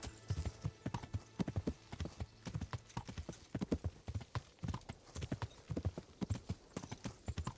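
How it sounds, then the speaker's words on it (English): Steady, rhythmic clip-clop of horse hooves trotting along in the video game Kingdom Come: Deliverance, fairly quiet and even, with no talking. "This is how you gotta ride a horse"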